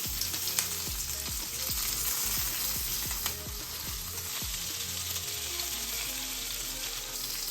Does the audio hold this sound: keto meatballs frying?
yes